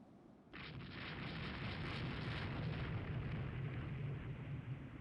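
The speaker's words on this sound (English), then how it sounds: "we actually have to shoot it this time" Naval guns fire on a merchant ship in the naval strategy game Rule the Waves 2, a loud, sustained roaring barrage of blasts that starts abruptly and rumbles on steadily.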